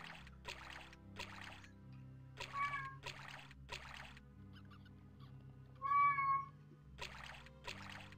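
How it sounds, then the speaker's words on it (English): A house cat meows a couple of times, clear and fairly close, amid repeated rhythmic game sounds from The Elder Scrolls: Arena and a low background drone. "My cat saying hello."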